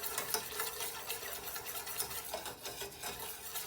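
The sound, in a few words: whisking powdered Parmesan cheese into pizza sauce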